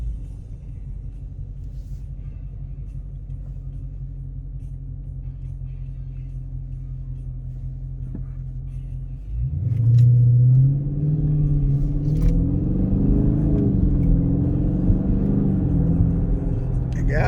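A 2020 Dodge Charger Widebody Scat Pack idles with a deep, steady rumble from inside the cabin, then surges into a loud hard acceleration, its engine note climbing through rising revs and staying strong to the end.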